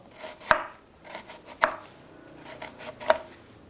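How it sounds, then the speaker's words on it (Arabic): Knife chopping lemon and onion on a cutting board while fish is being prepared, three sharp, well-spaced chops standing out clearly with quiet handling noise between them. "بنفرم ليمون، وبناخد كمان بصل نفس الطريقة"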